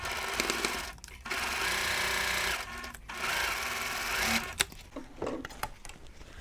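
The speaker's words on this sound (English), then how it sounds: "Now I'm going to go ahead and stitch my half square triangles together" A sewing machine stitches quilt half square triangles together with a quarter-inch seam for a Christmas quilt block, running steadily in two sustained bursts with brief pauses, close and fairly loud, no talk.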